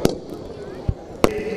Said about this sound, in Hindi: शानदार आतिशबाजी आप देख रहे हैं